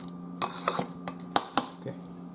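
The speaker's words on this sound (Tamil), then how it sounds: "இதோட கொஞ்சம் பெப்பரை போடுவோம். நல்லா மசிச்சு விடுவோம்." A utensil mashes avocado with pepper for guacamole in a bowl, giving several distinct clinks and taps at irregular intervals over a low steady hum.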